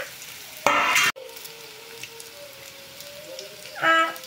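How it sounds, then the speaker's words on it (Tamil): Onions fry in a pan on a village cooking fire, with bursts of loud crackling sizzle and a quieter, steady frying hiss between them, and no speech. "வெங்காயம் வேகட்டும்."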